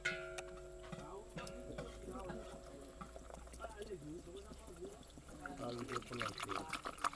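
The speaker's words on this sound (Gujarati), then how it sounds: "હવે આપણે નાખી દેશું પાણી." Water is poured into a spice mixture of turmeric and garam masala for a village-style bangda fish curry, a soft liquid trickle under a person talking close by.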